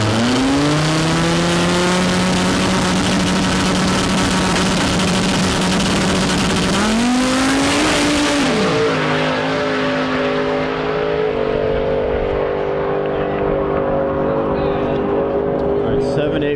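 Race cars roaring down a drag strip at a TX2K21 event, one a Viper that spins out: a loud, rising engine howl that climbs in pitch, then drops and settles into a steadier, fading drone, with a voice talking over it.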